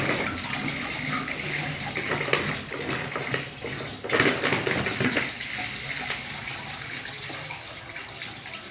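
Water pours out of an upturned plastic bottle in a vortex experiment, a continuous gushing and gurgling flow, close and steady for several seconds before easing off.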